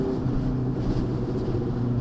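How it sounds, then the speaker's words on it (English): Steady, loud wind noise roars and buffets across the microphone while riding a Honda CB600F Hornet motorbike in strong gusts, with no voices. "sorry if you can hear the wind"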